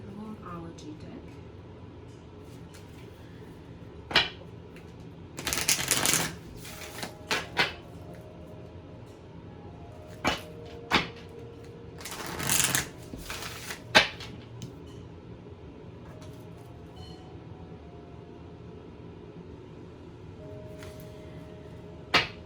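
A Moonology oracle card deck is shuffled in a few short, crisp riffling bursts between soft clicks and handling noises, with quiet talk in the room.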